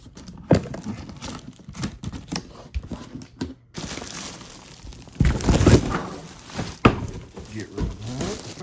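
Tesla-brand second-row pet liner packaging, a plastic bag with kraft paper inside, being cut open and unwrapped at close range, with scattered crinkles, tearing and rustling bursts in short irregular clusters.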